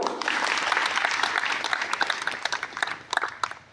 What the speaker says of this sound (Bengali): তার জন্য আমরা একটি করতালি দেব